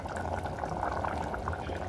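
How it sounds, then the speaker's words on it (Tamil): Thick chickpea and small potato gravy bubbling steadily in a pot, a continuous low simmering gurgle with soft pops, close up and alone. "ஃபைவ் மினிட்ஸ் கொதிக்க விட்டதுக்கு கிரேவி நல்லா திக்காக வந்துடுச்சு"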